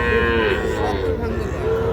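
Cattle at Ambari cattle market, with young crossbred bulls and heifer calves among them, lowing in a loud, continuous moo that fills the clip over a busy, crowded background.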